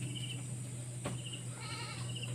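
Goats on a sunny morning bleat softly in the distance, a few faint calls rising over a steady background hum.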